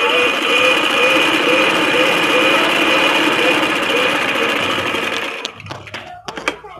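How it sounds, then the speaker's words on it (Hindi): A sewing machine stitches a kurta seam in a steady, loud, rapid run for about five seconds, then stops, leaving a few soft handling clicks and rustles. "हिप्स वाला बिल्कुल सीधी सिलाई लगा दें"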